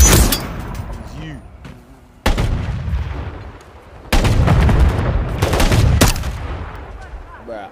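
Gunfire in Modern Warfare 3 multiplayer comes as loud bursts of rapid shots separated by short lulls, close and sharp, with a voice talking over the action.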